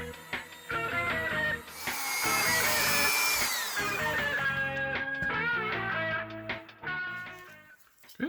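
Power drill with a rounded bit boring into an action figure head, a whining tonal drone that rises and shifts pitch as the bit bites, continuous for several seconds before trailing off.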